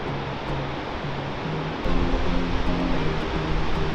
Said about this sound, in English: We're starting at Shoshone Falls, which is the most popular falls in the area, and for good reason.